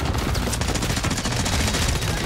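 A Bruin MK9 light machine gun fires in tac stance in Warzone 3 on Rebirth, a dense unbroken stream of rapid automatic shots, loud and close, for a couple of seconds.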